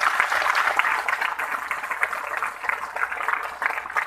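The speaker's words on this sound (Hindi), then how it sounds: "मैं चाहता हूं उनके सम्मान में जोरदार ताली आप लोग करते हो" Audience applause honouring Jagdev Prasad at the Latiya Mahotsav 2019 gathering, a dense, steady wash of clapping from a crowd that holds for several seconds without pause.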